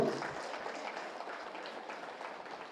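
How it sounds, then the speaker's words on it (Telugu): An audience at a rally clapping, a dense burst of applause that starts loudest and slowly fades while continuing to the end. "గట్టిగా చప్పట్లు కొడదాం."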